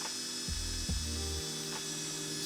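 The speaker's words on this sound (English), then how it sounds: "I started by drilling a small hole into this grapevine branch" A small power drill bores into a grapevine branch, giving off a steady, close whine with shifting pitch steps and a faint grinding of wood underneath.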